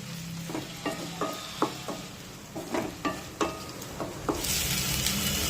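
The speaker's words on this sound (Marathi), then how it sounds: "एक टोमॅटो बारीक चिरून घेतलेला आहे, तो सुद्धा यामध्ये टाकूया। परतून घेऊया।" Finely chopped tomato sautéed in a pan, with a low sizzle under a series of sharp scraping stirs of a spatula against the metal, irregularly spaced, before the frying hiss swells louder at the end.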